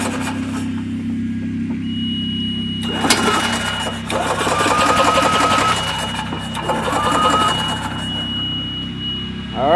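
A vehicle engine cranks over with a replacement Amazon starter, then catches and settles into a steady, close running drone with a faint whining tone above the idle.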